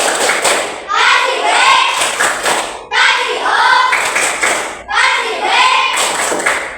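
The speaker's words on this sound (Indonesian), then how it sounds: "Bapak mau tepuk wow, tepuk wow." A school class performs the tepuk wow clapping chant in three loud bursts of rhythmic group clapping mixed with children's chanting voices, each burst separated by a brief pause.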